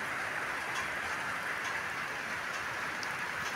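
Steady rain falls around a house, a dense continuous patter with occasional faint drips ticking on a surface, heard alone without talk.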